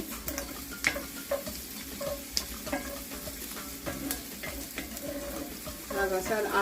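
Ground turkey sautéing in a pan for a lasagna, a steady close sizzle broken by repeated scrapes and clicks of a utensil stirring the meat, with no talking.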